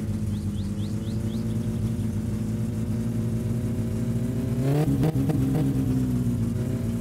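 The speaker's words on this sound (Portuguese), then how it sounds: "Vamos ouvir o motor." A car engine in the video game My Summer Car idles with a low, even hum, then briefly revs and settles back down. No one speaks.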